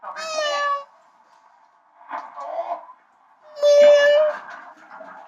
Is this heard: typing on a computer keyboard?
no